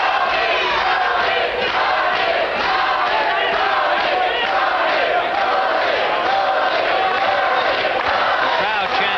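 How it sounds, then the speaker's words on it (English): A big boxing crowd at the Juan LaPorte vs Eusebio Pedroza fight chants Tony, LaPorte's nickname, in a loud, continuous massed roar with rhythmic surges, as a commentator talks over it. "The crowd chanting Tony, Tony, Tony"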